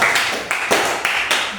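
A handful of separate, fairly close hand claps in a grade 8 Catholic religious education classroom, spaced unevenly with short gaps between them rather than a full round of applause.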